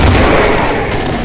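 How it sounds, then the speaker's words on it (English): A loud, dense burst of explosive game noise from Killing Floor, a broadband blast filling the full 1.3 seconds with rumbling low end and no quiet gaps, the kind of self-inflicted grenade explosion heard in a chaotic shooter fight. "Why did you explode?"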